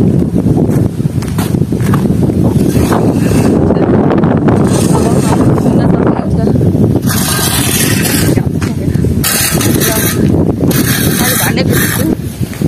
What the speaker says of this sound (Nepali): त्यही हावा पनि चलिरहेको छ